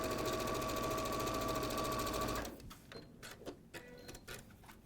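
A sewing machine runs steadily, stitching a quilt row together with a loud continuous mechanical hum and rattle for about two and a half seconds, then stops, leaving soft handling clicks and rustles close by.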